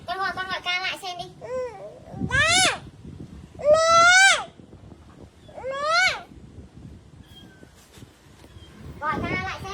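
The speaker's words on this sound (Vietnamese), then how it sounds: "Mèo đang kêu đó." A cat gives several drawn-out, wavering meows at intervals, loud and close, with people talking between and around the calls.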